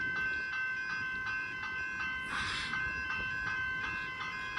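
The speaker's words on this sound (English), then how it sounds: "Oh, there comes a train." A train nears a railway level crossing at Station St in Seaford, Victoria, a steady rumble with faint rhythmic clicks and a brief hissing surge midway, heard from trackside without talk.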